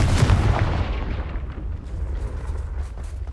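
A Confringo fire spell blast from the Hogwarts Legacy video game, a loud close boom with an explosive burst at the start that rumbles and decays over about three seconds, with no talk.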